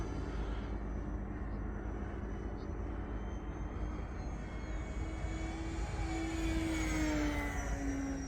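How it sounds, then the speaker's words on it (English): A twin-motor E-flite Beechcraft D18 1.5 m electric RC model airplane whines as it flies past at about three-quarter throttle, the buzzing pitch rising and sliding toward the end, heard from a moderate distance. "And she can get some speed going with those 2 motors."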